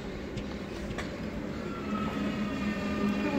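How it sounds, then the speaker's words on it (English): Train arriving at platform 1 of Hitchin station on the East Coast Main Line, a steady low rumble and hum with faint squeals, sounding close and continuous. "Train arriving to platform 1 is the 1431 for Stevenage"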